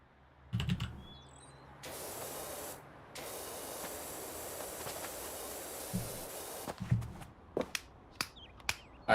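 A pressure washer sprays continuously in the PowerWash Simulator video game, a hissing water jet running for several seconds between short clicks and taps, fairly quiet overall with no talking.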